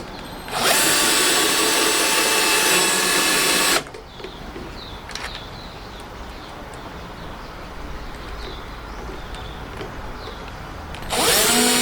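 A power drill drives into wood while a floating shelf is built: two loud, steady whirring bursts, one about three seconds long and a shorter one at the end, with quiet shuffling in between.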